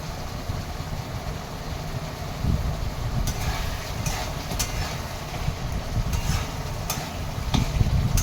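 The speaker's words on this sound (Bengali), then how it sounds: "আলুর সাথে মশলাটা ভালো করে কষিয়ে নেব" Potatoes stir-fry with spices in a pan for a vegetarian papad curry, with a low rumbling sizzle and intermittent sharp scraping clicks of stirring, close and moderately loud.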